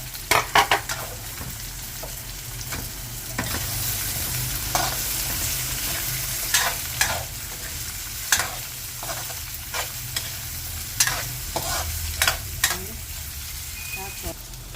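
Potatoes and carrots for beef menudo sauté in a hot pan, with a continuous sizzle and repeated clinks and scrapes of a stirring utensil at close range.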